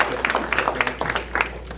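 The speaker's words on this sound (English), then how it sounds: "So a quick round of applause for them." An audience at a ward community meeting in a city hall applauds briefly, a short patter of scattered claps in a room, fairly faint.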